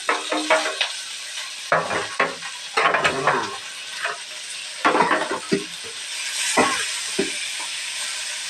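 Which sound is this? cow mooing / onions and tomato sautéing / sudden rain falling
onions and tomato sautéing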